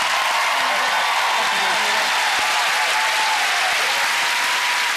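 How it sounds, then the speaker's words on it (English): A television game-show studio audience applauds a choir with loud, steady, dense clapping that fills the whole stretch without a break. "let's have a round of applause for the Push the Button Choir"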